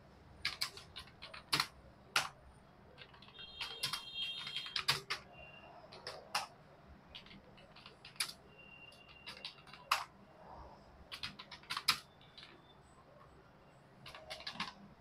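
Names are typed into a Microsoft Word document on a computer keyboard: quiet, close key clicks in irregular short bursts separated by brief pauses.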